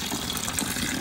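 Garden hose water pouring into a backyard pond, a steady close rushing and splashing that holds even throughout with no talk.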